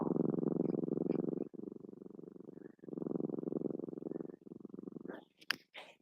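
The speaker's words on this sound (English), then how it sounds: "The purr is real." A pet cat purrs close up with a loud, rhythmic rumble in long breathing cycles, briefly pausing between breaths, with a few small rustles near the end.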